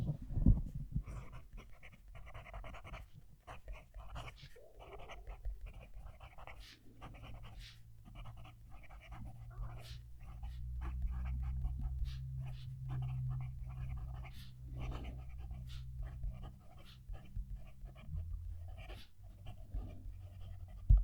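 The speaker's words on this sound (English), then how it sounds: "I'm going to move the mic down to the page so you can also hear the pen write" Kaigelu 316 fountain pen nib scratching across lightly textured paper, close and faint, with soft repeated strokes and ticks and an underlying low hum throughout.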